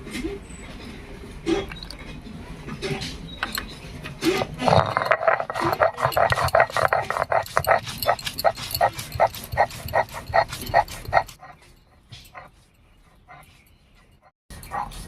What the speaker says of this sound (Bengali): এবারে বেটে নেব